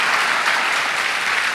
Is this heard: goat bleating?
no